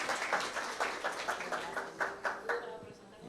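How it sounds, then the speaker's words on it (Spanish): A conference audience at a tuberculosis awareness luncheon gives a short round of scattered, fairly faint clapping, individual claps audible as it thins out toward the end. "Vamos a darle un fuerte aplauso para continuar."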